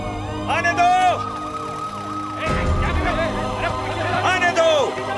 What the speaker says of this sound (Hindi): जल्दी करो, एम्बुलेंस को आने का रास्ता दो।